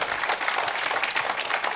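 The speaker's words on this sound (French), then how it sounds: "on peut vous applaudir" An audience at a conference opening applauds a speaker, a brief wash of many overlapping hands clapping at moderate volume, even and sustained without voices on top.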